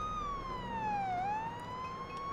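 Police siren in the Police Simulator Patrol Officer video game, a single wailing tone that slides down and then climbs back up, loud and continuous over faint road noise.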